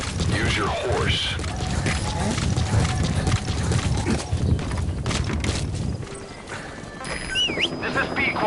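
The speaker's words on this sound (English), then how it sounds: "Use your horse" A horse's hooves clip-clopping steadily in Metal Gear Solid V, a rhythmic trotting under game ambience and a voice talking, the hoofbeats fading out near the end as mechanical sounds take over.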